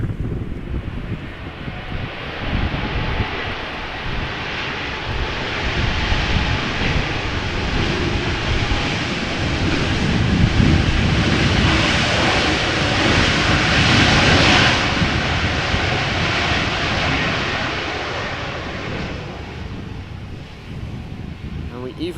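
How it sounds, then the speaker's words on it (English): An airliner lands at Amsterdam Schiphol in gusty crosswind, and its reverse thrust makes a loud, sustained jet roar that swells through the middle and slowly fades, heard from a distance with wind buffeting the microphone. "And we even got a little bit of reverse thrust there."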